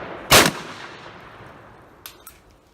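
A single loud, close shotgun blast from a Remington 3-inch number 1 shell fired at a 25-yard patterning target outdoors, decaying quickly, followed by two faint clicks.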